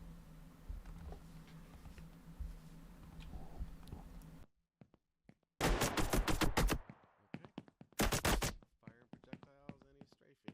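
Projectile fire from an AI character in an Unreal Engine game test: two loud broadband bursts of rapid automatic-style shots after a stretch of low hum, followed by scattered sharper clicks and impacts.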